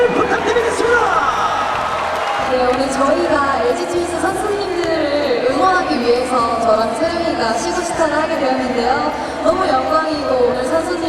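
Crowd at an LG Twins baseball game, clapping and cheering loudly and steadily throughout, with chanting voices and music blended into a dense, continuous roar.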